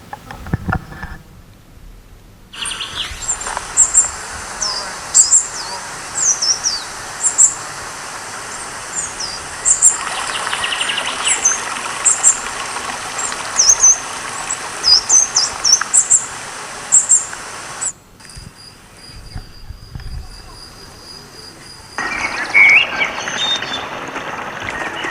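Birds and insects recorded in a mountain field: repeated chirps and calls over a steady insect buzz, with brief breaks and shifts in the background noise.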